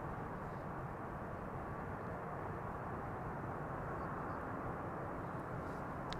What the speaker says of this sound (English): Garuda Indonesia should now be taking off from the center runway